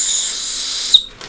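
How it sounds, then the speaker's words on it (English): A small keychain whistle gives a steady, piercing high-pitched tone for about a second, then cuts off with a brief click and a faint trailing breathy note. "There is a whistle"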